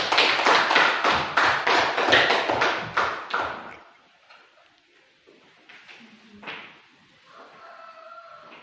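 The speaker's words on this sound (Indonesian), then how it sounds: "berikan aplaus untuk kelompok 2" Brief round of classroom applause for a student group, a few loud, rhythmic claps from a small group for about four seconds, then stopping into quiet room noise with faint shuffling.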